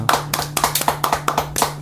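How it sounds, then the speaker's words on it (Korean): A church congregation claps together in worship, a steady run of close, crisp handclaps at an even rhythm, loud and continuous with no talking over it. "하나님 앞에 영광의 박수 돌립시다"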